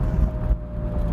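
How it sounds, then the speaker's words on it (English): Exhaust of a 1968 Chevrolet Camaro, a steady low rumble heard briefly and fairly loud, with no voices. "And listen to that exhaust."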